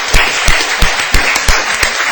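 Festival audience clapping in a short burst, loud, close and irregular, about a dozen claps over two seconds.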